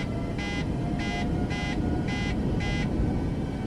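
Five evenly spaced electronic beeps sound as the throttle is raised in Microsoft Flight Simulator 2024, sharp regular tones over a steady engine hum.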